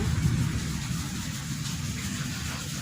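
Rain falls steadily in Antalya, heard from a balcony as a soft, continuous wash with a low rumbling patter. It stays even and fairly faint throughout, with no speech over it.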